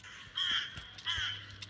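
Crows caw in two rough bursts within the horror video game Granny, fairly quiet and set against a still, empty background.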